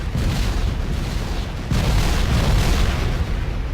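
Continuous heavy boom and rumble of grenade explosions clearing trees in the Factorio video game, dense low-end blasts running back to back for several seconds, with a brief dip before a second loud surge.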